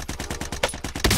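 Rapid automatic gunfire in a battle-royale shooter game, with about ten sharp shots in a quick, even rhythm, then a heavier, louder blast at the very end.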